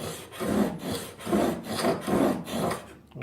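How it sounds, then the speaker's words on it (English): A chisel being sharpened by hand, grinding a new bevel, gives steady rasping strokes, about five back-and-forth passes in an even rhythm, close and fairly loud, with no talking. "today we're sharpening chisels and knives"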